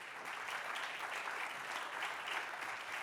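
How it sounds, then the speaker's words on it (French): Audience applauding to welcome a speaker, an algae researcher from the Max Planck Institute, at a talk; continuous, even clapping from a crowd, fairly faint and distant, with no break for the full few seconds. "Merci d'applaudir et d'accueillir Susanna Coelho."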